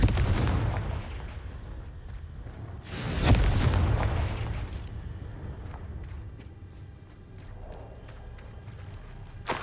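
A Confringo fire spell bursts in the video game Hogwarts Legacy, a loud boom with a sharp crack that stands out above a steady rumbling game soundscape, followed by fainter ticking effects.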